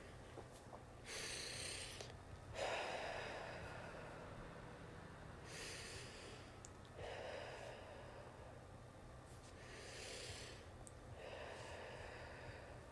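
Three slow, deep breaths taken one after another at an even pace, each a soft airy inhale-exhale rush with a brief snort-like edge, close to the microphone and with no talking between them.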